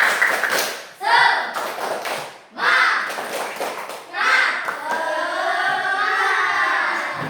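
In a primary school classroom, children clap the 'tepuk semangat' chant: loud, rhythmic bursts of group clapping in repeated patterns, with young voices chanting along between and over the claps.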